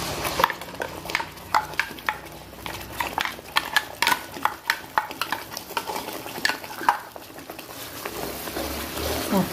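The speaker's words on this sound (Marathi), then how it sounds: "हलवत राहायचं आहे" Egg curry gravy being stirred as it fries in oil in a kadhai, with repeated clinking spoon-on-pan strokes over a soft sizzle, close and steady throughout.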